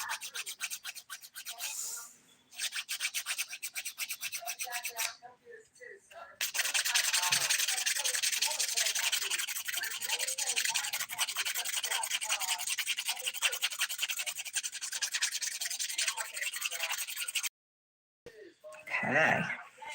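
A fingernail is rubbed with the coarse 100 grit side of a nail file in fast, close rasping strokes, pausing briefly a few times, with a short voice near the end.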